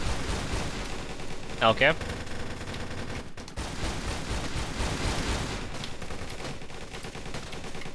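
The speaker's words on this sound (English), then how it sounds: "Can I shoot at the boss from underneath?" Gunfire from the Alpha 12 weapon aimed at a boss in the game Darkest Days, set at a construction site, with dense continuous shooting and a loud burst near the middle, while a voice talks briefly.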